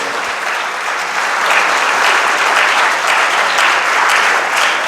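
A church congregation claps during a Spanish-language sermon, a loud, dense, sustained round of applause filling the whole stretch without a break.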